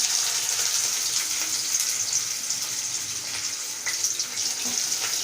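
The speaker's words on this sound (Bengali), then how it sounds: "প্রথমে আমি কড়াইতে" Mustard oil sizzling in a kadai before chicken kosha is cooked, a steady hissing crackle that holds evenly throughout with no talk.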